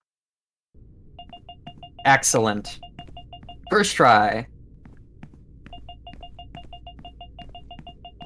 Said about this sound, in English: that is the sound of the menu in the background